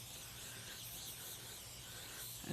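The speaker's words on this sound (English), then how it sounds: "You just take some butter-flavored Pam, spray on top of the tortilla" Butter-flavored cooking spray hisses from a can onto a tortilla in a kitchen, a steady, faint continuous spray lasting a couple of seconds with no talk.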